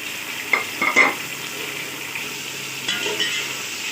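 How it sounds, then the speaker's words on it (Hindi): Onions and tomatoes sauté in a pan with a soft, steady sizzle, broken by a few brief scraping stirs near the start and again later, close and fairly quiet. "इसको सौते करेंगे। और साथ हम अपने टमाटर शामिल कर देंगे।"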